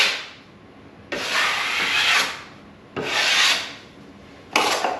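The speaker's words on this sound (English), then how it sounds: "turn the knife to the bottom. Scrape off the excess." Drywall knife scraping excess joint compound off freshly applied tape, three long rasping strokes with short pauses between, close and loud with no talking.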